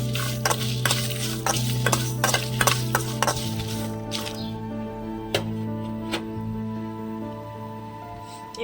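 Dried red chillies and sesame seeds frying in a pan, with a steady low sizzle under repeated sharp scrapes and clinks of a stirring spoon against the metal, close and fairly quiet.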